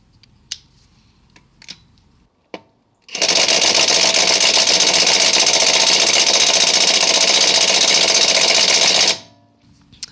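A Hercules 1/2 in. high-torque impact wrench with extended anvil runs in reverse on mode 1 against a lug nut, a loud continuous rattling hammer lasting about six seconds after a few faint clicks, then stopping abruptly.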